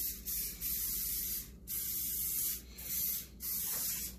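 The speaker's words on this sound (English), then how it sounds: "let's go ahead and give her a little spray down" Several short bursts of cooking oil hissing as it is sprayed into a hot cast-iron dutch oven, four or five in a row with brief pauses between, close and fairly loud, with no speech.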